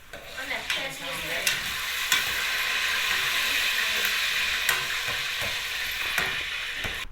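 Halka tatlısı dough rings fry in hot oil with a steady, close bubbling sizzle and hiss. Scattered sharp clicks and pops sound throughout.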